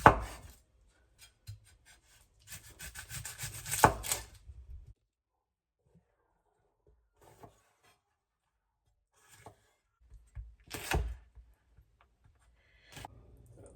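A knife chops an onion into rounds on a cutting board for a veggie pizza, giving a quick flurry of crisp, close taps early on and then a few scattered single knocks with long silent gaps.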